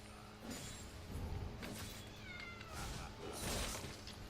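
A small cat in a League of Legends gameplay setting gives several short meows, with soft background clatter between them.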